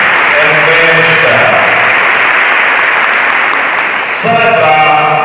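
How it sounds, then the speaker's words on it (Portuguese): A church congregation gives a warm, sustained round of applause in the parish church during the Saint Anthony trezena. The clapping is dense and steady throughout, with a voice or music faintly present at the start and end. "uma calorosa salva de palmas"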